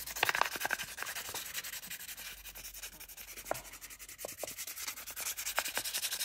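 Fingernails are buffed with an 800-grit nail buffer, a steady close rasping rub with rapid back-and-forth strokes that runs continuously and fairly quietly, with no voices.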